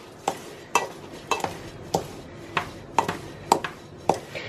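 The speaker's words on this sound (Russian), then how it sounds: "И все сухие ингредиенты смешиваем между собой." Dry ingredients for syrniki, flour or semolina with a pinch of salt, being stirred together in a bowl: a steady series of about eight scraping, knocking strokes roughly every half second, close and fairly loud, with no voices.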